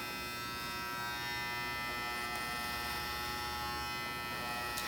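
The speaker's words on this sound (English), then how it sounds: "connecting our top with clipper over comb" Electric hair clippers cut hair in a clipper-over-comb fade, giving a continuous close buzzing hum with strong tonal overtones and no breaks.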